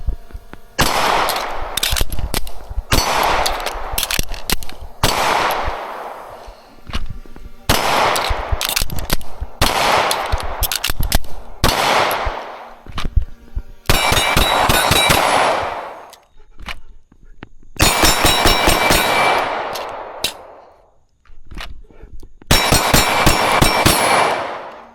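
Loud, close pistol shots from a ported Langdon Tactical Beretta 92FS Elite at a shooting range, fired in quick repeated strings and bursts separated by short pauses, with sharp metallic ringing between groups.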